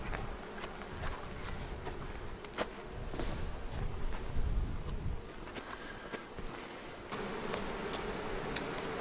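Bees buzz around a beekeeper at a hive. A faint, continuous buzzing runs throughout, mixed with scattered ticks, knocks and rustling close by.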